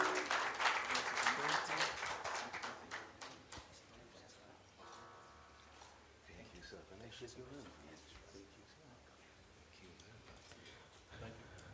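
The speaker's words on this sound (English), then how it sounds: "Round of applause, ladies and gentlemen." Applause from an anniversary celebration audience, strongest at the start and then thinning into scattered claps under a background of talk and crowd noise.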